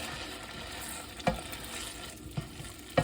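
A lamb Goan curry sizzles steadily in a pan while a utensil stirs it, giving a continuous frying hiss broken by a few sharp scraping knocks.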